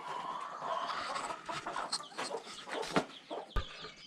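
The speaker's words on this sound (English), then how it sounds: "Spoiled chicken." A pet hen named Lucille clucks and murmurs close by, with a few sharper squawks and some rustling and scratching around.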